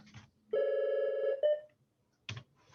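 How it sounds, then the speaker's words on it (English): A library office telephone rings with one loud electronic tone lasting about a second, then a short chirp, followed by a burst of keyboard tapping. "And our phone's ringing here."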